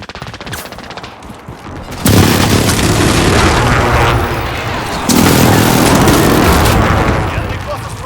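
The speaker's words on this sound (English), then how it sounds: "Allied precision airstrike incoming." A Call of Duty airstrike lands as two sustained volleys of loud, rumbling explosions mixed with rapid gunfire, each lasting about three seconds, over steady battlefield noise.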